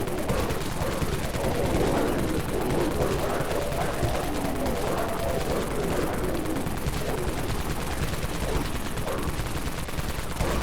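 Dawn Minigun in Dead Frontier firing without a break, a dense, steady, roaring stream of rapid shots that holds at one loud level for the whole stretch and barely varies.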